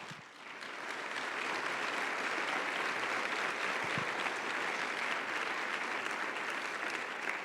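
A church congregation bursts into applause during a Sunday sermon, a dense, steady wash of clapping that swells in and holds, close and loud, with no talk over it.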